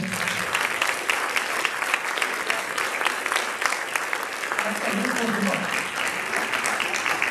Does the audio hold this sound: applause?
yes